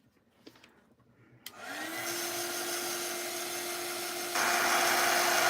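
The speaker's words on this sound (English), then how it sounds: "I'm drying the top bit as well because it's wet." Heat tool blowing on wet craft pieces switches on after a few quiet handling sounds, then roars steadily with a rising whine, getting louder near the end.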